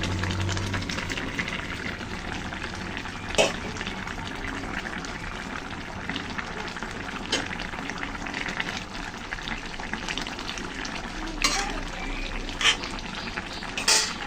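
Fried tilapia pieces go into a simmering pot of Malabar spinach greens and potato curry, giving a steady close sizzle and bubbling hiss throughout with a few sharper clinks and splashes, and no one speaking.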